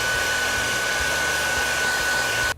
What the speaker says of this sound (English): You want to take a blow dryer and on cool, make sure it's cool.